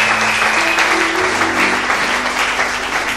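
A church congregation applauds loudly and steadily for a few seconds, a dense continuous clapping with no pauses.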